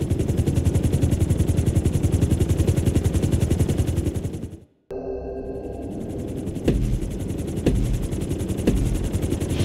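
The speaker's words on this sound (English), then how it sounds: "we're going to put you in a helicopter for this lesson" A helicopter flies in the Grand Theft Auto 5 video game, its rotor chopping in a loud, rapid, steady beat that breaks off briefly and then resumes with engine drone and a few sharp clicks.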